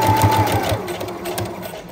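A sewing machine back stitching a tie skirt, its close rapid mechanical chatter running steadily for a couple of seconds and easing slightly toward the end.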